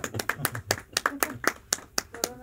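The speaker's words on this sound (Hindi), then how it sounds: "तालियां तो बजाइए बिल्कुल" An audience at a Hindi poetry gathering claps in a quick, uneven patter of sharp hand claps. The claps stay moderately close and run for a few seconds with no voices over them.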